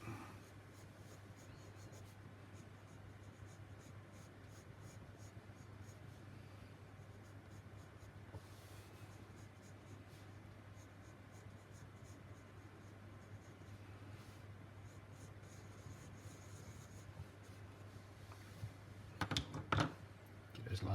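A pen sketches a dagger, eye and rose tattoo design on paper, giving a faint, steady scratching of strokes, with a few louder scrapes near the end.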